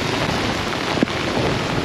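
Heavy rain pours down on a city street in Saigon, a dense steady hiss of downpour with a brief thump partway through, and no voices.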